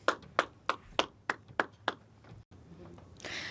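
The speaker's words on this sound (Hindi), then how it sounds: "एक बार आप सबकी भरपूर तालियां हो जाएं।" At a Hindi comic poetry gathering, seven sharp, evenly spaced claps ring out in a quick rhythm, then give way to a softer, rising murmur of clapping and room noise.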